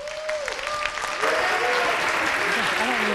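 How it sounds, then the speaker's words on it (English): Applause rises from a tech conference audience as a speaker is welcomed, and the crowd clapping grows louder and denser partway through while a voice and short tonal sounds carry over it. "Save the applause for the end"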